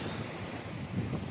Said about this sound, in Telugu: వర్షం అయితే పడుతుంది బెంగళూరు ఎయిర్పోర్ట్ దగ్గర